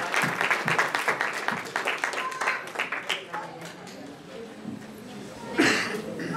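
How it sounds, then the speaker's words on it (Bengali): Hall audience at a BanglaRongo 2024 community event applauds the new committee, loud individual claps at first that thin out and fade, with a voice breaking in near the end. "একটি জোরে করতালি আশা করছি।"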